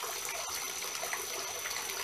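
Water trickles and splashes steadily in an outdoor garden fountain with a pond, a soft, even, faint wash with no voices.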